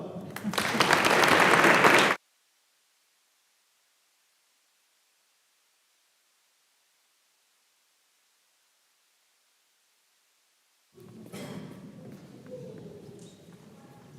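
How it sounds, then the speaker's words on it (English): An audience at a high school awards ceremony applauds loudly for about two seconds before it cuts off abruptly, followed by long silence and then fainter, scattered applause and room noise. "One more round of applause."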